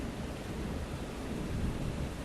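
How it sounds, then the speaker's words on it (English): Heavy summer rain and a thunderstorm outside an open window: a steady, dense hiss of downpour with low rumbling underneath, continuous throughout and fairly close. "You might be able to hear that wonderful thunderstorm that we've got going on"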